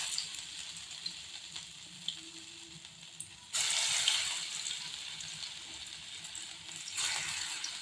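Pakoras fry in refined oil: a quiet low sizzle swells into two loud, hissing surges as more batter goes in, then keeps bubbling steadily, with no voices.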